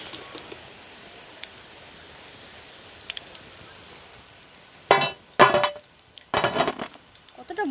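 Freshly fried crispy pakoras, a Bengali tea-time snack, are handled and broken, giving a few short loud crunchy crackles in quick bursts near the end after a quiet start.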